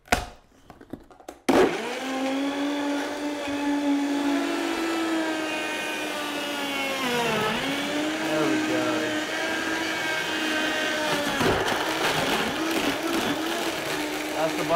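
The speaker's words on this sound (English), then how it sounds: "Get a good blender," A countertop blender whirs steadily for over ten seconds, loud and close, blending pear, spinach and cocoa into a dark green smoothie; pitch dips briefly as contents shift, with a short burst of noise before the motor starts.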